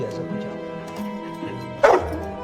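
A dog in a movie scene gives a sharp yelping bark near the end, following whimpering sounds, with tonal background noise underneath.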